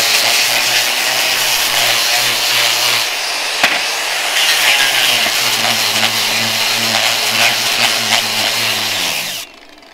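A 900-watt Flex angle grinder fitted with a grinding disc runs on a Bluetti portable power station. It makes a loud, steady motor whine with a droning hum for about nine and a half seconds, then cuts out abruptly.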